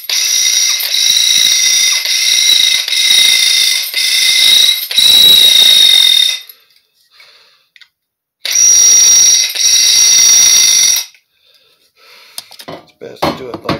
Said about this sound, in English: I'm going to drill these out a little bigger.